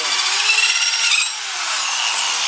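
Rotary drill cutting through a section of Ford F150 dashboard plastic for a double-DIN stereo install, a loud, continuous close-up grinding whine whose pitch sags slightly partway through, with no voices.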